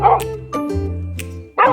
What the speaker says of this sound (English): starting to bark at whatever was coming around